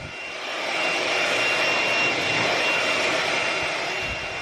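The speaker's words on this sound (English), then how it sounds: "I bought this small cordless blower to blow out the crud from underneath the couch" A small cordless blower runs steadily at full power, a loud continuous whooshing roar as it blows debris out from under a couch, rising in the first half second and then holding.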